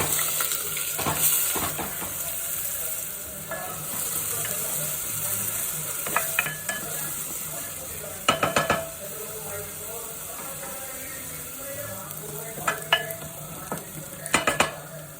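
Onion fries in a pan with green and black cardamom, cloves, shahi jeera, cinnamon stick and bay leaf, giving a steady sizzle under repeated clattering spoon strokes that come in short bursts, close and moderately loud.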